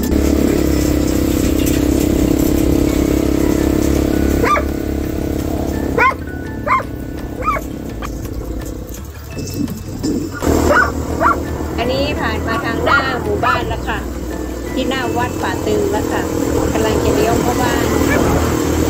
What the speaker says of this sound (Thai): เห่าไม่หยุดค่ะ